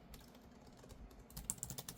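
Quick, quiet typing on an AliExpress-bought Magic Keyboard–style case for a 13-inch iPad Pro M4 with pogo-pin connection, soft key clicks in an uneven run that grows busier toward the end.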